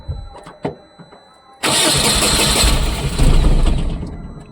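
A Tata Ace Gold BS6 petrol engine with a starting fault cranks after a few light clicks and knocks, then catches and runs loud and close, settling into a steady idle that swells slightly near the end.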